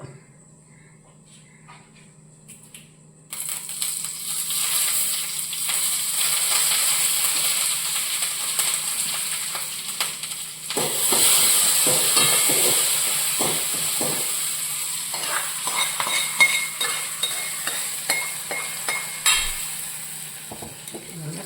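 Mustard seeds and curry leaves hit hot oil with a sudden loud sizzle after a quiet start, settling into a steady close hiss and crackle broken by spoon scrapes as the tempering cooks for a Kerala curry.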